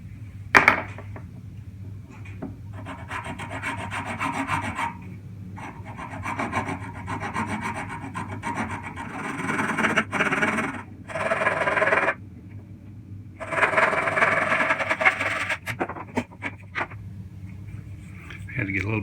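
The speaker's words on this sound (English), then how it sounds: "I had to get a little bit more aggressive saw to cut through this nut material." A small handsaw cuts through guitar nut material in a series of close, rasping back-and-forth strokes in several bursts separated by short pauses.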